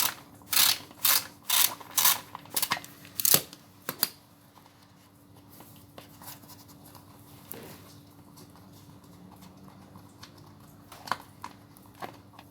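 A socket ratchet fitted with a 10 mm socket works on a Suzuki GSX-R1000 K1 motorcycle during clutch cable replacement. About six quick, close bursts of ratcheting clicks come first, then near quiet with a few faint clicks.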